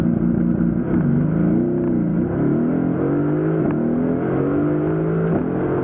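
A Mercedes-AMG GT S accelerates hard during a performance test, its engine roaring loud and close as the revs climb and drop through several gear changes, with no voices over it.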